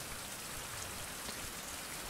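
Steady rain pours in a survival video game set on an island, a dense, even hiss of drops on surfaces that holds without a break and with no voices over it.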